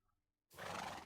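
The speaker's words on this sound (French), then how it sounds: "Oh mince, j'ai tapé ton cheval." A Minecraft horse neighs after being struck, a single loud whinny bursting in abruptly after a brief silence.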